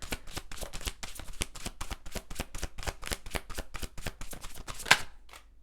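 Tarot cards are riffled and shuffled in a fast run of crisp, papery flicks, close and fairly quiet, ending in a last sharp snap before falling silent.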